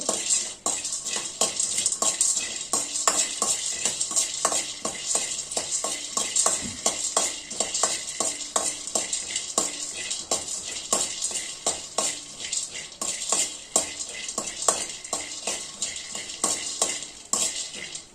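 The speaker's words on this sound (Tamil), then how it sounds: "இது லேசாக வறுத்தா போதும் ஏற்கனவே வறுத்தது தான் இது" Already-roasted grain is briefly dry-roasted again in a pan, giving a steady dry rustling and scraping as it is stirred continuously, close and fairly loud throughout without pause.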